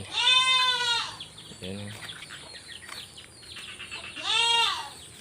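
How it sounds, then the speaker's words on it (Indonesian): A goat at a farmyard bleats loudly twice, a drawn-out wavering cry at the start and another near the end, with someone speaking briefly in between and a lower animal call mid-clip. "Ini ada kambing"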